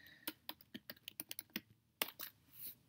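Close, quiet typing on a computer keyboard, a quick run of sharp key clicks with a short pause before a few final taps.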